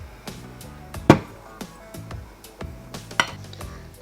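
A spoon clinks and scrapes against a bowl while chocolate cake batter with cocoa is mixed, giving a few sharp knocks among softer scraping strokes.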